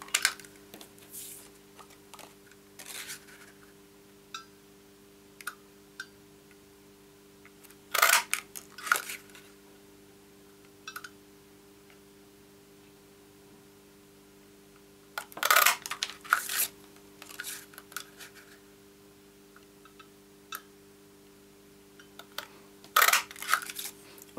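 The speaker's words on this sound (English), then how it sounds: "we're going to punch these out" A 1 3/8 inch circle punch presses through cardstock for an Easter card, producing a few sharp, close crunching snaps spaced several seconds apart over near silence, with some clicks and rustles around each punch.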